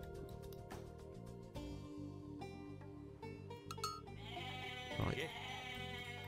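Goats bleating in the Age of Mythology strategy game, several short repeated bleats over a busy layer of game music and effects, with a brief spoken word.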